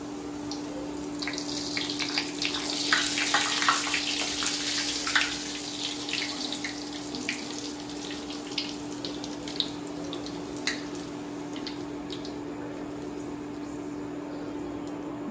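Bhatura dough frying in hot oil, a steady loud hiss and crackle with bursts of bubbling, continuous throughout with no talking.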